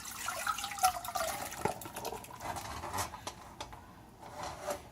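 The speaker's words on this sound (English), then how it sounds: "Alright, in goes the potatoes." Cut potatoes splash into water in a skillet, with soft irregular plops, drips and sloshing at a faint level close by.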